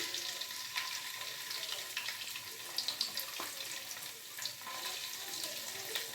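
Garlic and ginger fry in a pan for Hakka noodles, a steady close sizzle and hiss with faint scattered pops and crackles throughout.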